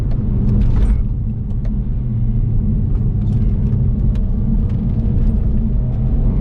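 Nissan Juke Nismo RS with an 8-speed gearbox downshifting, a low steady engine and road rumble from inside the car, loud and continuous with a few faint clicks early on.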